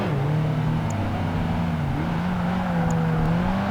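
Engine of a Lexus SC430 racing through Barcelona in Project Gotham Racing 2 drones steadily and loudly, its pitch rising and falling slightly with other cars' motors whirring close by.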